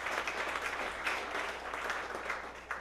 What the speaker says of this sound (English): round of applause for CTV